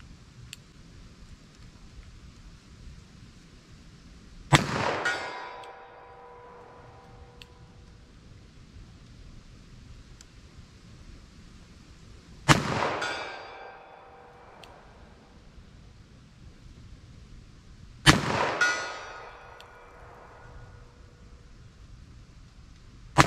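Three loud, sharp .44 Special and .45 ACP handgun shots during a big-bore ballistic test, each a sudden crack followed by a short decaying ring, spaced several seconds apart with quiet outdoor background between them.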